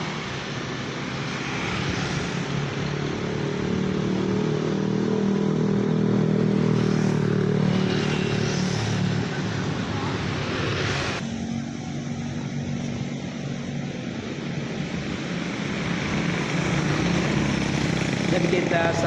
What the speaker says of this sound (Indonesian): Ini ada bus Scania Simpati Star.